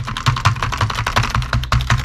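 Rapid loud clacking of a cheap Dell USB keyboard bundled with an Inspiron 5400 all-in-one desktop, keys sticking, a steady stream of close keystrokes with no talking.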